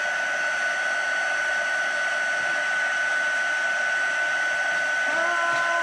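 A heat gun melts embossing powder on a card, giving a steady, close, high-pitched blowing whine that holds level the whole time.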